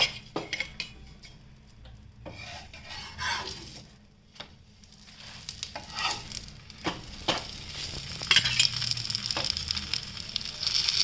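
A vegetable puff made without maida cooks in a little oil on a pan, a soft uneven sizzle broken by clinks and scrapes of a utensil against the pan, growing busier toward the end.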